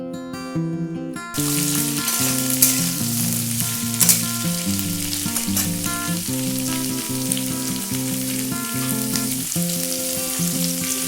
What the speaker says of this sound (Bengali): এবার আমি এর মধ্যে ফুলকপি, আলু, গাজর আর কুমড়ো একসাথে দিয়ে দিচ্ছি